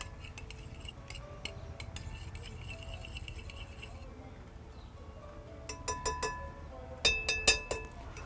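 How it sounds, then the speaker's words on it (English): A spoon stirring melting butter in a metal pot, with soft scraping followed by a series of sharp metallic clinks against the pot toward the end, close and fairly quiet. "gently stir everything to dissolve the butter"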